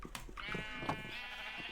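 Sheep bleating in the video game Minecraft: a few wavering, nasal bleats close together, clear and fairly close over quiet game background.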